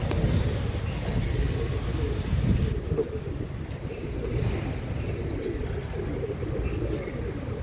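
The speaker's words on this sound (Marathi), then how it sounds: "हे कबूतर नायाब कबूतर आहेत" Pigeons coo at a loft, a dense, steady low murmur of many birds close by that fills the whole stretch with faint background noise.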